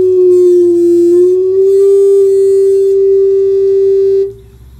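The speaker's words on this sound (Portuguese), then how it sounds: "A cachorra birrou, birrou e subiu" A female dog howls loudly near a Toyota Hilux with a heavy bass sound system, one long sustained wavering howl that rises slightly in pitch, then cuts off into a low background hum.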